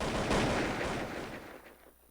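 Rapid gunfire from the Blood Strike shooter game, a dense burst of shots that stays loud and close for most of the two seconds before tailing off, with no talk over it.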